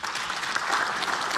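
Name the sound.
applause from lawmakers' seats in the National Assembly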